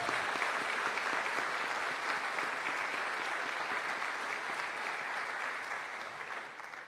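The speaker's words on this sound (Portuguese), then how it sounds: "Aplauda esse Deus maravilhoso." A church congregation applauding together, a dense, sustained clatter of many hands that holds steady for several seconds and then begins to fade slightly at the end, with no voices over it.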